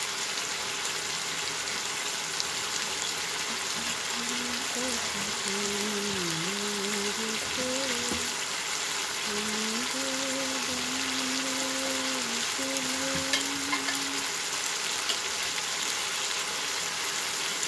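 Dal boiling in a pot on the stove gives a steady, dense bubbling hiss that runs unbroken from start to finish. A faint wavering hum rises and falls beneath it partway through.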